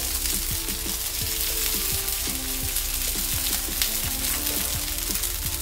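Sabudana appe fry in a little ghee in an appe pan over a low flame, giving a steady, close, continuous sizzle with small crackles and pops throughout and no voices.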